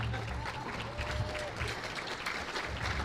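Audience applause at an annual association luncheon, a steady wash of clapping from a crowd in a hall, moderately loud throughout with faint voices mixed in.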